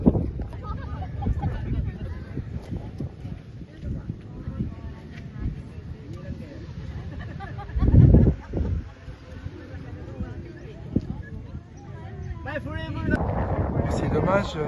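Gusty wind buffets the microphone with low rumbling bursts on the Chocolate Hills in Bohol, Philippines, surging loudest near the middle and end, while a person talks intermittently in French.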